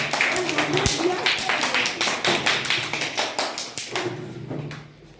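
Rhythmic hand clapping at a school prize-giving as two winners receive their award, with a quick, steady beat that fades toward the end while a voice talks faintly underneath.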